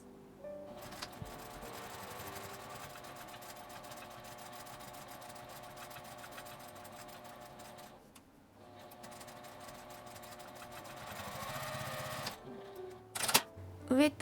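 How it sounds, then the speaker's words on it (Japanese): A sewing machine runs continuously while edge stitching a small earphone pouch, a close, steady whirring drone that pauses briefly midway, then resumes before ending with a few louder clunks and rustles. "端ミシンをかけます。"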